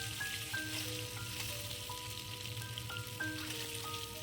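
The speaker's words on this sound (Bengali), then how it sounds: "আমি একে একে সব ডিমগুলো আমি তেলের মধ্যে দিয়ে দিয়েছি" Duck eggs fry in hot mustard oil with a continuous close sizzle and spitting crackle, while faint melodic tones sound in the background throughout.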